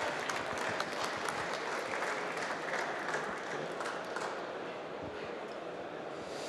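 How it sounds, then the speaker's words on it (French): Dense applause from an audience after a cybersecurity software demonstration at a conference, steady and fairly loud at first, then easing slightly toward the end. "je crois qu'on est passé directement aux applaudissements"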